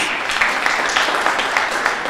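An audience at a Martin Luther King Jr. Day celebration held by a Cape Verdean association claps steadily together, a dense, even patter of many hands filling the room without a break.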